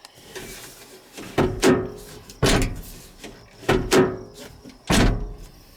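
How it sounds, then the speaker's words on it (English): A Mazda B Series pickup door handle is pulled and the door pops open, a string of sharp metallic clunks and latch thunks repeated about five times at close range, each followed by a brief rattle. "just one pull of the handle, and it just pops right open"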